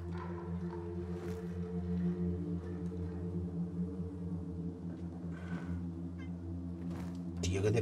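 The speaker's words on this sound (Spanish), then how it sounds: "Para acá, gato, ven." A cat in the zombie video game Dying Light 2 meows a few times over a steady low rumble and background game sound, with a voice calling to it.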